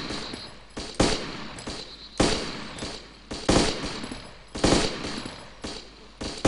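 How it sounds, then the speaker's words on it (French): Bursts of gunfire in the zombie survival video game DayZ, several sharp shots recurring roughly every second or so with ringing decay, loud and alone with no talk. "Désolé, Mist, je te tire dessus, mais..."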